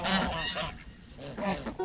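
A flock of domestic geese honks loudly and continuously on a farm where chickens and ducks are also kept, the harsh overlapping calls filling the whole clip with no speech.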